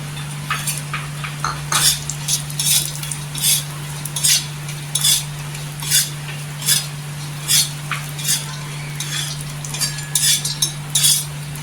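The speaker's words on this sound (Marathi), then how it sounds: "इथे खारीक आहेत अर्धी वाटी, ते पण भाजून घ्यायचं." Half a cup of dried dates dry-roasting in a pan, with a steady low hum beneath a string of clear, regular scraping and clinking strokes of a spoon stirring against the metal.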